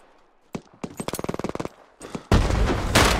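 Gunfire during a church assault in the video game Hell Let Loose: single shots, then a quick rhythmic burst of about a dozen rounds, more shots, and finally a loud, sustained explosion-like blast.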